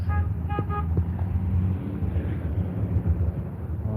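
A car horn gives three quick honks early on, over a steady low rumble of passing traffic.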